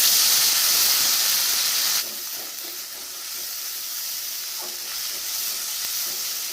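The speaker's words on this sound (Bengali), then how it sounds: "আদা বাটা, জিরা বাটা, কাঁচা লঙ্কা বাটা, দুটো শুকনো লঙ্কা বাটা, সর্ষে বাটা আমি কিন্তু এখন দিয়ে দেবো।" Ginger, cumin, green chilli, dried chilli and mustard pastes hit hot oil for a village-style mustard hilsa curry, a loud steady sizzle and hiss that eases a little after the first couple of seconds.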